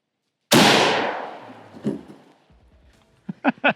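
A 7.62 bullet fired into body armor with a second armor plate behind it: one sharp, loud outdoor report whose echo decays over a second, then a few light knocks and thuds.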